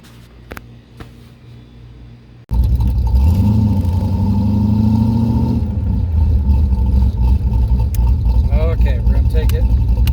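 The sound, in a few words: car engine driving on test drive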